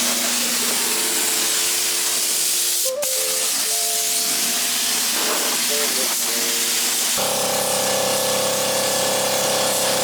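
A spray gun hisses steadily, applying a second coat of epoxy primer to a 1JZ-swapped coupe, loud and continuous with brief pauses and pitch shifts from a compressor or pump as people talk nearby.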